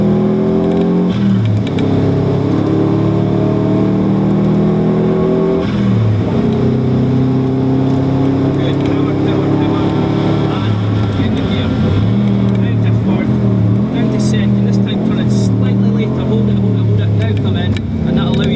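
A car at Knockhill circuit accelerates hard out of a corner, its engine droning loud and close with rising and falling revs across gear changes, while a driving instructor talks throughout.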